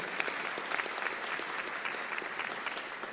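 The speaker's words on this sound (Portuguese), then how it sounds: "Palmas para ele, gente, para o movimento" Audience applause at a solemn session honoring Black Consciousness Day, a dense, steady wash of many hands clapping throughout, moderately loud and without pause.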